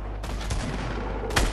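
Gunfire in a Fortnite squads match, a couple of sharp, loud shots with a steady noisy battle backdrop between them.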